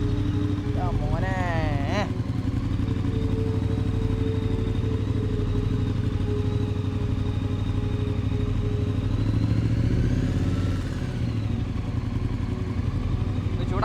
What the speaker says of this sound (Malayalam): സ്റ്റോക്ക് ആണെങ്കിലും അത്യാവശ്യം നല്ല ലൗഡ് ആയിട്ടുള്ള ഒരു എക്സോസ്റ്റ് സൗണ്ട് തന്നെയാണ് ഈ ഒരു ബൈക്കിനുള്ളത്